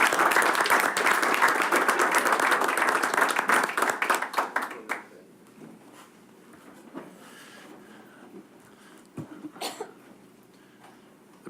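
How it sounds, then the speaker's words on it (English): Crowd applause at a school board meeting, a dense burst of clapping for about five seconds that then fades into a quieter room with scattered coughs and murmurs. "Another round of applause for these guys."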